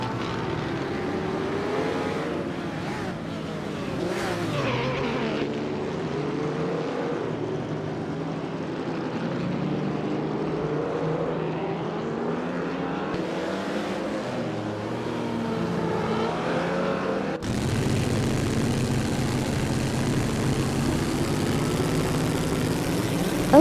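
A 1937 Auto Union Type C race car engine in a racing video game drones with a shifting, rising and falling pitch, a continuous mid-loud whine that changes to a harsher, noisier tone near the end.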